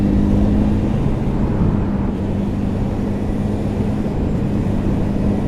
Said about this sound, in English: Got that beautiful induction raspy noise, and you got that top end grunt